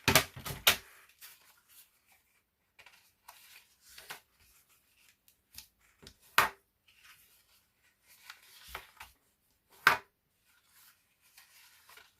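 Paper being creased by hand as folds are marked firmly, giving sharp scattered rubs and snaps separated by quiet pauses, close and fairly soft.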